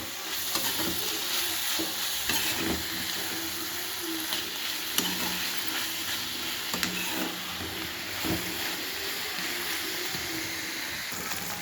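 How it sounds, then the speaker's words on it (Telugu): Bitter gourd slices fry on a low flame with a light sprinkle of grated jaggery, giving a steady close sizzle broken by occasional stirring scrapes and clinks, with no talk. "ఇలా లో ఫ్లేమ్లో పెట్టుకొని బాగా ఎర్రగా వేయించుకోవాలా."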